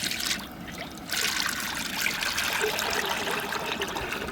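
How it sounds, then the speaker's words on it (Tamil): Clean cold-pressed groundnut oil pours into a frying pan for rava pakoda, a steady close trickle with a brief pause near the start, no talking over it. "சுத்தமான கடலை எண்ணெய் பொறிக்கிறதுக்கு ஊற்றிக்கிறோம்"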